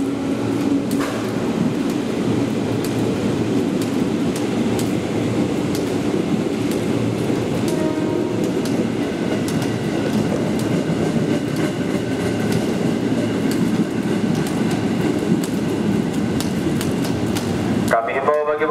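A train departs from a platform at an Indonesian railway station, making a loud, continuous rumble and rattle of rolling wagons that lasts throughout, with a station announcement voice over it.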